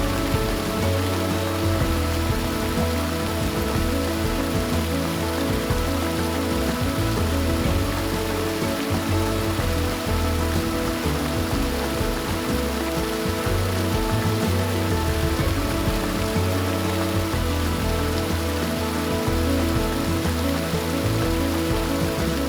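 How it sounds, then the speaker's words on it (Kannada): Sathodi waterfall in Karnataka, dropping about 50 feet, gives a steady, dense roar of falling water that holds at an even level throughout, with no voices. "ಸುಮಾರು 50 ಅಡಿಯಿಂದ ಬೀಳೋ ಈ ಜಲಪಾತನ ನೋಡೋದು ಕಣ್ಣಿಗೆ ಸೊಗಸು"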